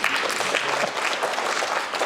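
Steady applause from an audience at a Ukrainian event reporting on the Poroshenko Foundation's aid to the army, a dense, even patter of many hands clapping throughout with no break.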